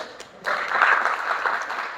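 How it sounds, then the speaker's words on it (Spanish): Church congregation applauding together, a steady wash of clapping that swells in after a brief quiet start and holds fairly loud throughout. "¿Cuántos aplauden al Señor?"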